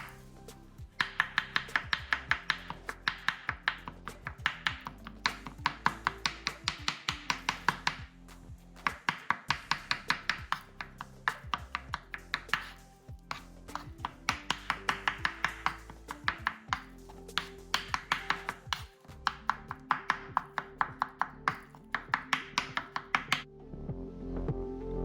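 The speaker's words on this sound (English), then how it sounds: "And then chop it as finely as you can." Peeled aubergine being chopped finely with a knife on a board, a long run of rapid, steady knife taps in quick bursts with brief pauses between, close and fairly loud, no voices.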